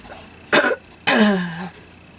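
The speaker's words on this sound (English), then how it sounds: "Sorry about clearing my throat." Two short, harsh throat clearings, a brief one followed by a longer rasping one, close to the microphone with no other sound.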